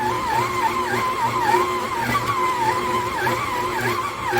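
Kitchen in the box 6.5-quart 660W electric stand mixer running in a high speed setting, giving off a steady, loud mechanical whine with a wavering pitch over its motor hum, continuous throughout with no talking.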